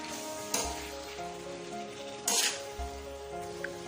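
Sliced white onion dropped onto a hot tawa in a kaleji recipe, giving a steady close sizzle with two louder bursts of hissing as the pieces hit and are stirred, alone without talk.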